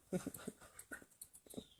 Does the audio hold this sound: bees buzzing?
no